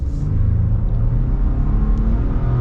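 A Ford F-150 STX with a 400-horsepower EcoBoost engine pulls away from a green light in traffic, giving off a loud, close, steady rumbling rev as it accelerates. No voices are heard.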